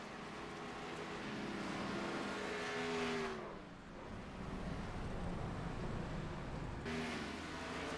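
Number 85 race car crossing the line, its engine droning loudly as it approaches, then dropping in pitch and fading briefly as it passes, with another car's roar rising again at the end.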